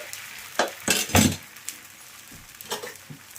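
Dosa batter hits a hot oiled pan and sizzles, with several bursts of spreading and scraping sounds in the first half and fainter utensil scrapes later, close and loud with no talking.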